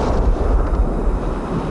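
An explosive charge blows off a steel door, heard as a heavy low-frequency boom and roar that fills the whole short moment at high loudness with no voices.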